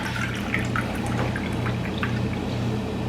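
Coconut water pours steadily into a vessel with a continuous splashing trickle, close and fairly loud, over a faint low hum, with no talking.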